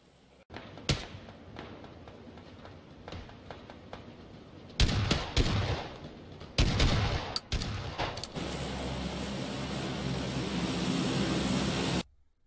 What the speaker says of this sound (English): Grab a sniper, take shots at people,